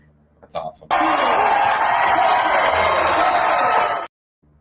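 A baseball crowd erupts in a sustained roar of cheering and whoops for a batter, loud and dense for about three seconds, then cutting off abruptly.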